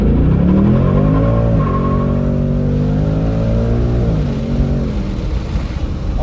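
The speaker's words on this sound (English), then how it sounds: "Press OK to start, and then we're going to accelerate." A 2024 Ford Mustang GT launching hard from 0 to 60 mph with track mode off, its loud engine roar rising steadily through the gears with brief dips at each shift, close and continuous with no talking.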